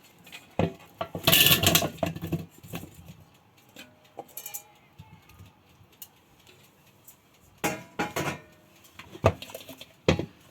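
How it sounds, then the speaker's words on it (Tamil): Potato and carrot mix dropped into an air fryer basket, giving a few clattering, rattling bursts of pieces and metal contact against quiet background with faint handling sounds between. "இதை நான் இந்த ஏர் ஃப்ரையர் இதுக்குள்ளே போடுறேன்."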